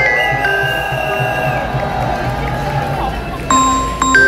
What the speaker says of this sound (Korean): 늘 고생해주시는 우리 안진걸 수장님께 다시 한번 박수 부탁드리겠습니다